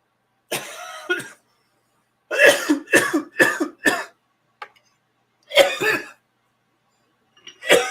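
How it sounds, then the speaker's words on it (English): A person coughs in several separate harsh bursts, including a quick run of four, spaced out with quiet gaps between them and heard alone and close. "stupid cough"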